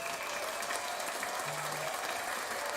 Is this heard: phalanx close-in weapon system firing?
no